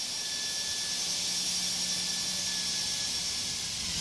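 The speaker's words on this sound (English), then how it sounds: "So the engines are at idle" Airbus jet engines idle in a flight simulator flyby, a steady, loud broadband roar with a high whine and a faint tonal hum running unbroken throughout.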